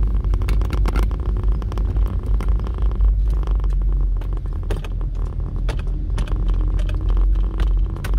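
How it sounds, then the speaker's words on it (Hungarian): A phone holder rattles in quick, irregular bursts inside a moving car, with clicks and buzzing layered over the steady low rumble of the road and engine, close and fairly loud. "Telefontartom zörög."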